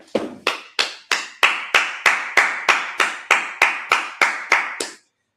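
About a dozen sharp, evenly spaced claps or taps at a steady rhythm, close and fairly loud, ending abruptly, at a Sabbath service.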